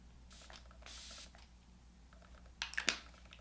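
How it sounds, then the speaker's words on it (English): Morphe setting spray is misted close by in two short hissing bursts, the second longer, followed by faint handling clicks and rustles in a quiet room. "I'm just going to put a little bit of the Morphe, or a lot, of the Morphe setting spray."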